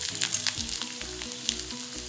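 Coconut, coriander seeds and chana dal frying in sesame oil in a kadai for Tamil vatha kuzhambu, giving a steady close sizzle with scattered crackles and pops and no voices.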